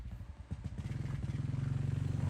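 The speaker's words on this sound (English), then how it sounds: "this is just a little video of us running the plow" A four-wheeler pushes a snow plow, its small engine chugging close by in a quick, pulsing rhythm that starts uneven with a few clattering knocks and settles into a steady throb.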